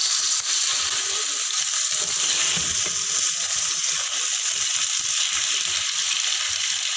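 Mutton with onion, ginger, garlic and spices fries for a pulao, a loud, dense, unbroken sizzle filling the whole stretch with faint low stirring knocks underneath.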